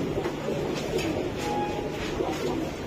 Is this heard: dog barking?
no